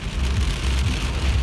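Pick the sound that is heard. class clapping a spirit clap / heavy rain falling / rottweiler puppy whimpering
heavy rain falling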